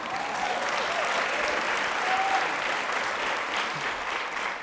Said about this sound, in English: I wanted to hear that applause